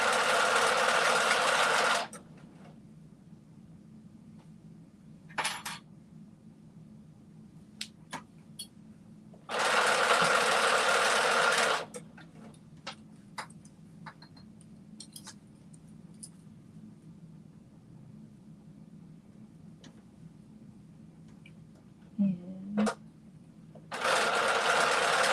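Sewing machine stitching a 5/8 inch seam, running in three loud steady bursts of a couple of seconds each, separated by quiet pauses with faint handling clicks.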